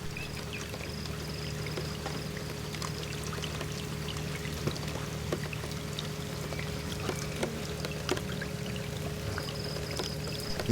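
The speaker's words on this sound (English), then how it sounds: "this is pouring with rain" Heavy rain pours down steadily at the start of the rainy season in southern Africa, a dense, unbroken hiss with a faint low hum underneath and no voices.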